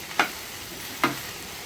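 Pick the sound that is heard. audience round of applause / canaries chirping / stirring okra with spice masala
stirring okra with spice masala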